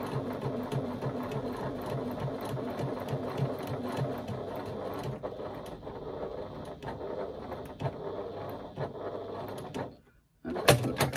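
Sewing machine stitching along a marked line, a rapid rhythmic mechanical chatter, close and steady, slowing and pausing near the end before a brief burst of back stitches.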